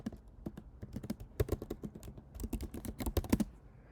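Typing a command on a computer keyboard, a quick run of close, crisp key clicks in uneven bursts over a few seconds with no talking.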